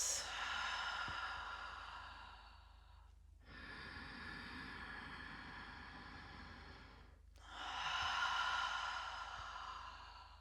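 Slow, deep breathing during a strong yoga flow, three long airy breaths in and out, each lasting several seconds with brief pauses between, close and fairly soft with no talking.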